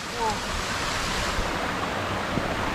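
Rushing water at the top of Nakyeong waterfall in Sogeumgang valley, Odaesan, a steady broadband roar that fills the whole stretch close by, with brief faint voices underneath.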